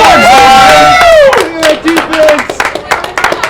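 A crowd at a Missouri wiffleball championship game bursts into loud cheers and shouts, followed by scattered clapping and whoops, close and lively, with a commentator's voice over it.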